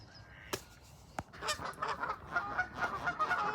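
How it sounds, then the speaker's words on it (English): Canada geese honk repeatedly outdoors, a couple of sharp calls followed by a rising, overlapping chorus of honks at moderate distance. "That's the thing with the Canadian geese,"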